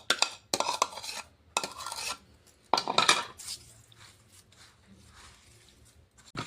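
A spoon stirs a cold milk and sugar mixture in a bowl for homemade wheat flour biscuits, making close, irregular bursts of scraping and clinking strokes with short quiet gaps between them.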